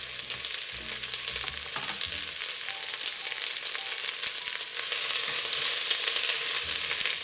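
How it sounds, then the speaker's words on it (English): Steady crackling sizzle of onions frying in oil, close and continuous, with occasional stirring clinks and scrapes early on. "I will saute first my onions. And you hear the sizzle, just until they are golden."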